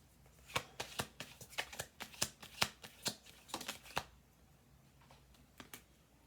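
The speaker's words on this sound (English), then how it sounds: "One more shuffle." A deck of cards is shuffled close by in a quick run of crisp, snapping riffles that stops after about four seconds, leaving a few softer taps at the end.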